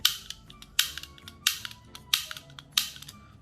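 Toy cap gun, model 008, firing five sharp snapping cracks at an even pace, close and crisp, each followed by a faint mechanical click of the action.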